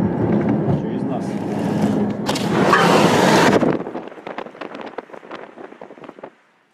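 A car hums and rumbles from inside the cabin as it drives, wind rushing loudly for a moment, then fading under steady talk until the sound stops.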